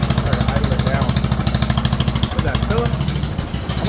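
John Deere tractor engine idles with a steady, rapid low chugging pulse, close and prominent, with a voice heard briefly over it.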